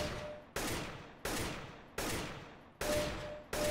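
Single gunshots fired at targets in CSGO ring out one at a time, six sharp reports at a steady, unhurried rhythm, each followed by a decaying echo before the next.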